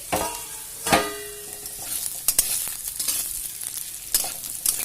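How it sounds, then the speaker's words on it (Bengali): Cauliflower and potato pieces frying in a pan, with a soft sizzle broken by sharp clatters and scrapes as they are stirred and turned, heard close up with no talking. "আমি এটাকে একবারে ভেজে নিচ্ছি"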